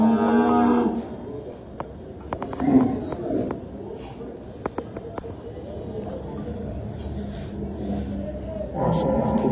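Cattle brought in for the Qurbani season at an agro livestock farm moo loudly at the start and end, with truck unloading noise, clatter and voices in between.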